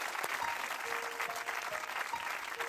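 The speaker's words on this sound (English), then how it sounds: "Give him a great big hand clap for the ministry of music." Applause for a church music ministry singer: dense, steady clapping from an audience that fills the whole moment, loud and continuous with a faint tone underneath.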